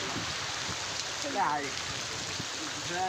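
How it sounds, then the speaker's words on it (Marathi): Constant hiss of heavy rain falling close by, with a voice speaking briefly partway through. "लय घाण पाऊस आहे राव."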